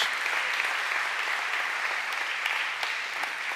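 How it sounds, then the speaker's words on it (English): Audience applause at a church mission event, a full, steady sound of many people clapping throughout. "Let's give them a big round of applause."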